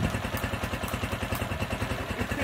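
An AKT NKD motorcycle with a faulty CDI keeps running and will not shut off, its engine idling in a steady, rapid, even put-put pulse at close range, with no speech over it.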